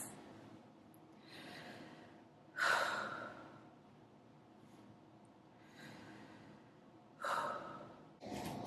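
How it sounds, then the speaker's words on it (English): A patient takes deep breaths during a stethoscope exam at a physical, with several slow, audible inhales and exhales spaced a few seconds apart, close and fairly quiet with a couple of sharper intakes. "we're gonna take some deep breaths"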